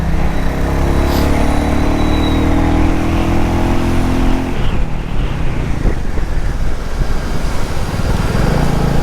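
A Royal Enfield Bullet 350 motorcycle runs loud and close with a steady engine drone, then its note shifts and breaks up about halfway through as the bike brakes. No one speaks.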